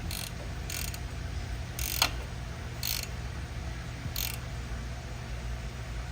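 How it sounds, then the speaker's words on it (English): A 19mm ratcheting wrench turning a car sensor gives several short, crisp clicking bursts at uneven intervals, close by over a steady low background hum. "Got a 19mm ratcheting wrench."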